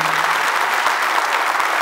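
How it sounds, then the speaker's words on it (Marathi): An audience at the Navi Mumbai Police Jallosh 2025 event applauds loudly and steadily in a dense burst of clapping. "खरंच एकदा सगळ्यांसाठी जोरदार टाळ्या व्हायला पाहिजे"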